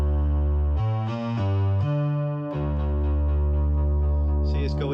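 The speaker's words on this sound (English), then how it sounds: "Then we got a Pro 1 and another Pro 1, are linked together as a low frequency oscillator, which basically controls a cutoff frequency on there." Pro-One analog synthesizer with its filter cutoff swept by a linked low frequency oscillator, playing loud, buzzy sustained notes that shift pitch in steps while the tone brightens and darkens, alone without talk.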